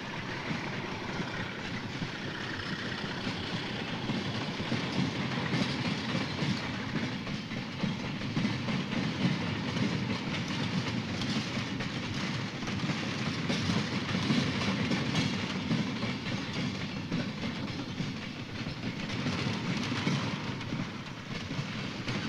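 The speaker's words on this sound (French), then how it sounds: "Le train nouvellement formé est un omnibus qui va me conduire à ma destination définitive." Inside a local omnibus passenger train leaving a rail marshalling yard, a steady rumbling roll continues throughout, with faint rhythmic clicking from the rails and no voices.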